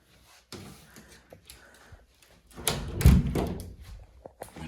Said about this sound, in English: The door shuts.